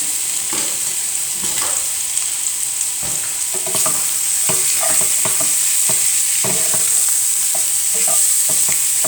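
Beef fries in a little oil in a pot, giving a loud, steady sizzle close up, broken by repeated scraping stirs and crackles throughout.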